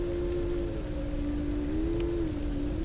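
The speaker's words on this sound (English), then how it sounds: "A fine drizzle begins to fall and the wind rises." Fine drizzle falls steadily as the wind rises, a dense even hiss that stays unbroken and loud throughout, with a low wavering tone running underneath.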